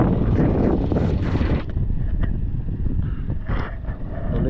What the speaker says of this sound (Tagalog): Tuloy pa din ang takbo ng makina natin.